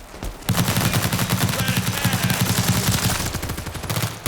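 Rapid automatic M416 rifle fire in a video game, a dense continuous burst of loud, near shots lasting several seconds after a brief quiet start.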